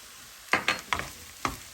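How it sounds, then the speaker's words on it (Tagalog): A spoon scrapes and knocks through a sisig mixture of chopped pork and chili in a pan, giving four distinct close stirring clacks over a faint sizzle, with no talking. "So, halu-haluin lang natin."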